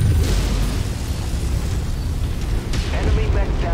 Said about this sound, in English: Alright, artillery's lighting up.